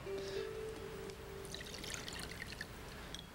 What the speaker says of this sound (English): I'm going to pour this through a sieve and collect just the juice underneath